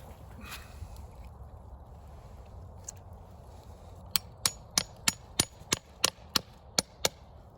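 After a quiet stretch with faint background noise, about a dozen sharp hammer strikes ring out in a steady, even rhythm, close by.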